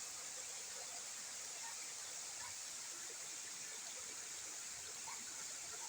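A rural stream with a small waterfall flows steadily in a smooth, constant broadband rush. The sound is fairly distant and low in level, with no distinct splashes standing out.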